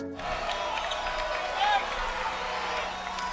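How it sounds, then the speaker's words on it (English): A crowd murmurs and stirs at a girls' district basketball final, a steady, moderately loud roar of voices that swells briefly midway. "Crowd making some noise."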